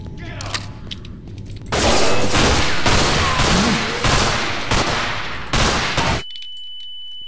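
Loud, sustained gunfire in the video game UnderHell, with bullets coming from the walls, a dense fusillade of rapid shots that bursts in, lasts several seconds and then cuts off abruptly to near silence with a faint tone.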